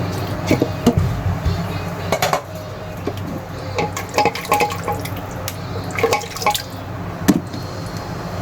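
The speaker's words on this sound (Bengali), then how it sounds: "প্রেসার কুকার অল্প পরিমাণে পানি অ্যাড করে নেব" Water is poured into a pressure cooker holding beef, with splashing and dripping trickles mixed with clinks of metal pots and utensils, close and moderately loud throughout.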